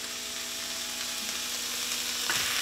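Mutton snapper pieces going into a pan of lightly softened peas and carrots, giving a steady, faint sizzle and hiss throughout, with a brief scrape of stirring near the end.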